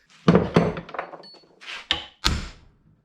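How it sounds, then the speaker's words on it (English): A hammer taps out the steering universal joint on a Jeep Wrangler: a series of close, hard metallic knocks, two heavy blows followed by lighter, sharper taps spaced apart, with no talk. "With the pressure, tap on with a hammer"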